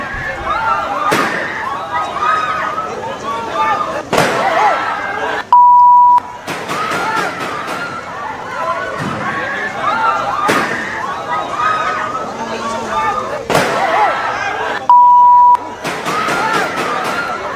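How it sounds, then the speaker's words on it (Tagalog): Rapid gunshots ring out inside the Senate building, apparently on the second floor: sharp, loud bangs in repeated irregular bursts, with voices in the background and two steady electronic beeps between volleys. "Sunod-sunod na putok ng baril po yan"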